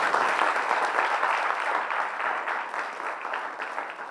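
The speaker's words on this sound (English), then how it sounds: "I want to ensure that we put our hands together for the musicians again." A crowd at an academic research day plenary applauds the musicians, a continuous wash of many hands clapping at steady loudness that tapers slightly toward the end.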